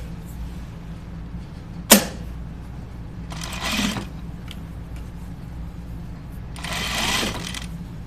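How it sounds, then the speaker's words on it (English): A sewing machine stitches the hems of a men's button-up shirt in two short bursts of whirring, with a sharp click and a faint creak between them, nearby and without talk. "let's sew the hems."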